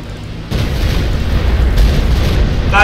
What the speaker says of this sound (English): Firing with my STUKA again!